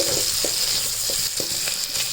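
Washed mint and coriander leaves sauté in a pan for a vegetable biryani, sending up a dense, close sizzle with quick rhythmic scraping strokes of a spatula and no talk.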